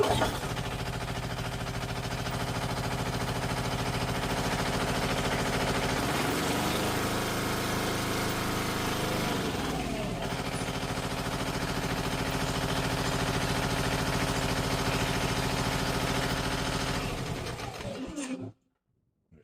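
Large 48V DC generator engine running steadily, a loud continuous droning hum with a brief dip in load partway through, then cutting off abruptly near the end.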